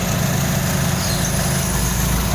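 A 2007 Honda FD car engine running rough with a misfire, a steady close low-pitched idle with uneven, stuttering pulses and no voices.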